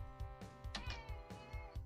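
A cat meows in the retro game Moraff's World, a couple of short distinct meows over a repeating low rhythmic music loop, faint overall with no talk.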